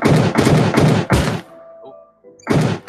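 Gunfire in a video game: four quick heavy shots in a row, a short pause with faint electronic tones, then one more shot, all close and punchy with no talk.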